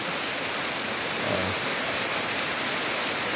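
Heavy rain pours in a constant, dense wash of noise, loud and unbroken, with no voices.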